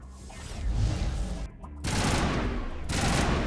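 Dense enemy gunfire from Stalkers in the video game Mass Effect crackles loudly and continuously, with a brief lull before resuming even harder in sustained bursts.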